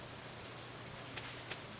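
Rain in the Stardew Valley video game on Nintendo Switch, a quiet, even hiss of falling rain with a couple of faint soft drop taps, no voices.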